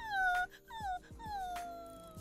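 A person's voice imitates a crying dog, giving a series of high, wavering whimpers and falling whines in short bursts separated by brief pauses.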